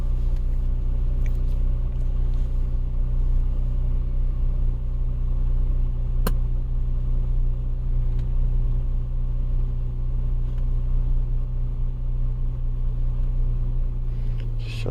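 Engine of a 2008 Land Rover LR2 idling steadily with an exhaust pipe attached, a continuous low rumble at even level throughout, close by, with no talk.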